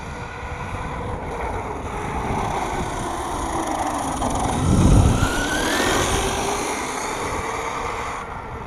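A 1/5 scale Rampage MT V3 RC monster truck's petrol engine runs nearby, a loud continuous buzzing drone that swells to a peak near the middle before settling back, with no talk.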